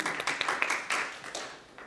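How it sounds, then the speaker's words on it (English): A room full of people applauds for guests, a dense patter of many hands with a few sharper claps standing out, steady and fairly close, then easing off toward the end. "Let's give them a round of applause, please."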